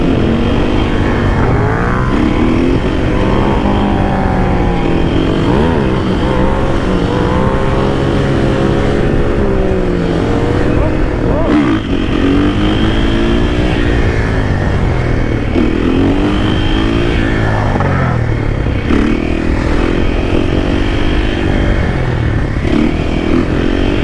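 A Husqvarna FC supermoto motorcycle is ridden through city streets, its single-cylinder engine loud and close throughout, revving up and down through the gears as it accelerates.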